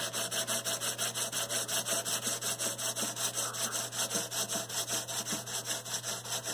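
Guitar fret ends being sanded by hand with 220 grit sandpaper, a quick rhythmic back-and-forth rasping in steady strokes, close and fairly quiet, no talk.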